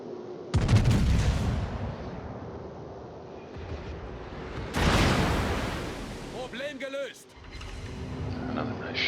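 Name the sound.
naval gunfire in World of Warships video game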